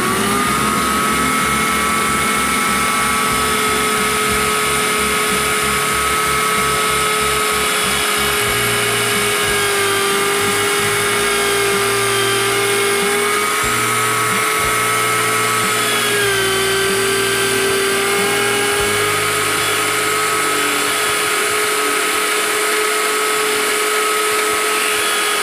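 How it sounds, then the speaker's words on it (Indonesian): A small power drill boring into a coconut shell ring, a loud sustained high whine holding nearly steady pitch with slight dips under load, continuous and close with no talking. "langsung kita bor di sini"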